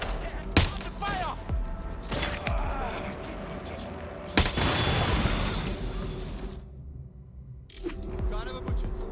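Gunfire in Watch Dogs: Legion, with several sharp loud shots and a heavier blast amid a noisy combat mix, while a voice talks over part of it.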